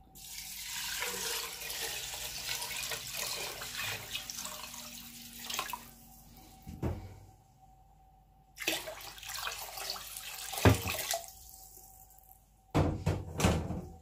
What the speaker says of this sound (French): Nous allons maintenant mettre la quantité d'eau souhaitée.